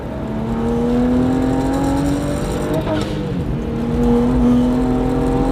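A 400-plus horsepower BMW 135i CSL engine pulls hard while driving, a loud sustained rising drone with gear changes midway and again near the end, heard from inside the car with no talk.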